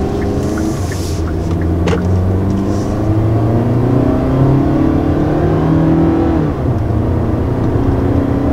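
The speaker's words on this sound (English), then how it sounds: "First taking off in the 2020 Hyundai Santa Fe." A 2020 Hyundai Santa Fe with a 2.4-liter engine pulling away from a stop, its steady engine drone rising in pitch through the acceleration, heard from inside the cabin with no talking.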